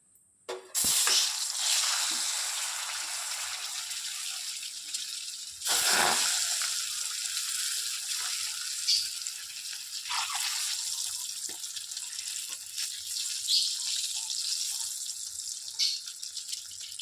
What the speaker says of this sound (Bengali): ডিম দুটো ভেজে নেব